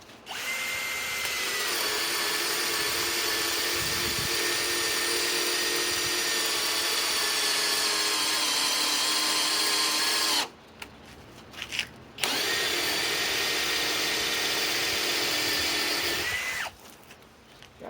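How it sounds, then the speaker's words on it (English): A Master Force cordless hammer drill on speed 1 bores with a 3/4 inch spade bit, a loud steady motor whine with a low grinding bite that runs about ten seconds, stops briefly, then runs again close up. "Let's try speed 1 and see if it'll go through. This is a 3/4 inch speed bore."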